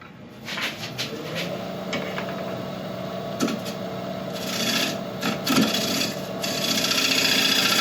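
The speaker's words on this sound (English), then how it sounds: "and then sand." Abrasive rubbing against a very hard apple-wood piece spinning on a woodturning lathe, a continuous close raspy scrape over the lathe's steady hum, with a few sharper knocks.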